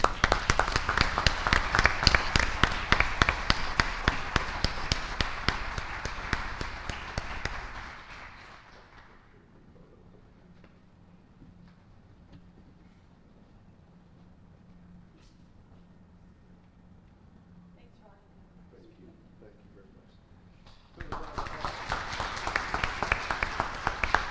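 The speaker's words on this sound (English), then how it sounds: "Please help me give them a big round of applause." A crowd at a school board meeting breaks into loud, dense clapping that fades out after about eight seconds. A quiet stretch follows before a fresh burst of applause starts up near the end.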